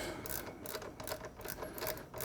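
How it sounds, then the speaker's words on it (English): A 12mm wrench tightening an exhaust bolt on a Triumph Bonneville T100/T120 while fitting a Predator carbon exhaust, rapid close ratcheting clicks in a steady series, no talk. "Use our 12mm wrench."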